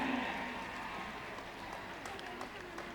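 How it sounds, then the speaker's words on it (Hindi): Audience applause for a children's cultural performance at a school event, a dense, fairly faint wash of clapping that runs continuously with a constant crowd murmur. "लगातार तालियां बजती रहें"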